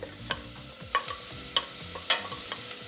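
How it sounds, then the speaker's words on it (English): Onion sautéing in ghee in a pan, a steady low sizzle broken by a few sharp stirring scrapes of a utensil, close and moderately quiet with no voices. "Saute the onion for a while."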